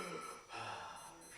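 A voice mimics heavy breathing with a sharp gasping inhale and a drawn-out rasping exhale, close to the microphone and alone.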